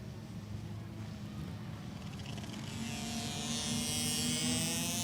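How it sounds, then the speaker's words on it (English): Small 50cc two-stroke chain bikes racing at Callahan Speedway, a steady engine drone with rising high-pitched whine as the pack builds speed, continuous and moderately distant with some wind noise. "These 50cc chain bikes are wound up. The sweet sound of two strokes here at Callahan Speedway."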